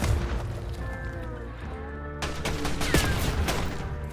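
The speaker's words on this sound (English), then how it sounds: "Tossing Semtex grenade." A Semtex grenade goes off in a first-person shooter game amid a busy firefight. Sharp blasts and bursts of gunfire sound over an ongoing battle rumble, with whining sweeps and a big burst about halfway through.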